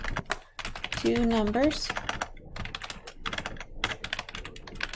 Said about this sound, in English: My typing is also great today.